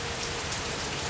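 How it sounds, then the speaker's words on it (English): Steady rain falls outdoors on a warm day, a dense, even hiss of drops pattering on surfaces that holds constant throughout with no voices over it. "it's very rainy today"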